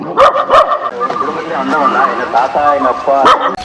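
A dog barks several times close by in a quiet hill-country area, sharp yips and bow-wows bunched at the start and end, mixed with a person talking through the middle.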